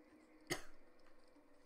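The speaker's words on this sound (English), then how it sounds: "Sorry for all the coughing." A single sharp cough, brief and fairly close, standing out against a quiet room with faint background hum.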